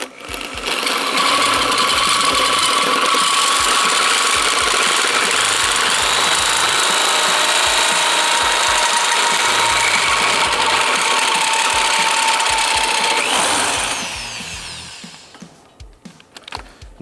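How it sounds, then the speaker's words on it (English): A hole saw cuts a cope into a steel front suspension tube, grinding loudly and steadily for about thirteen seconds before winding down, followed by a few light knocks. "now you have a hole sawed cope, as you can see."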